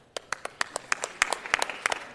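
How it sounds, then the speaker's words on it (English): A small audience at a city council meeting claps, giving sparse, uneven hand claps at close range that keep a loose, steady rhythm for a couple of seconds. "Let's give them all a round of applause."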